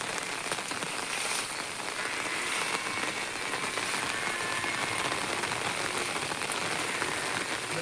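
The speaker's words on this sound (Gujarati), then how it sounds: "4 દિવસથી એક ધારો વરસાદ પડે" Heavy, steady rain pours down without a break, a dense even hiss of drops drumming on surfaces close by, loud and unchanging throughout with no voices.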